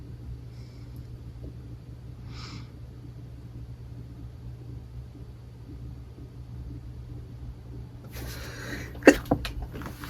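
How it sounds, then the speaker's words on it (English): A single sharp sneeze bursts out near the end, with a low, steady engine rumble running underneath the whole time. "I'm sneezing now, coughing and sneezing."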